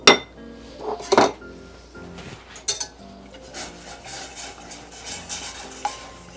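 A whisk stirring tomato paste for homemade enchilada sauce in a metal pan, with sharp clinks and scraping strokes, a few loud knocks early, then a quicker run of strokes, all close and unaccompanied.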